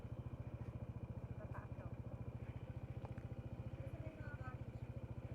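A Honda ADV 160 motorcycle engine idles with a steady, rapid low putter, while faint voices murmur in the background.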